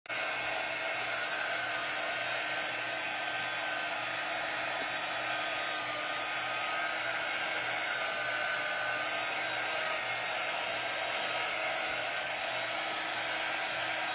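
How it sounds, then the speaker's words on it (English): A hair dryer blows steadily on a tote bag, a constant loud whooshing hiss with a faint motor whine, running without a break and with no talking. "let's hit it with dryer real quick because we want to dry it"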